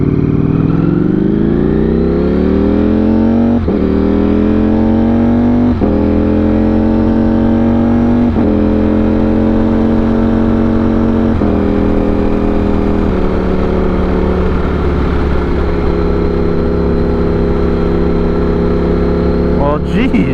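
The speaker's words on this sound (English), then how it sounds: "There's people racing in the background behind me." Motor vehicles race along a town road, one engine after another climbing in pitch and dropping as it shifts, a steady loud roar with repeated rising revs throughout.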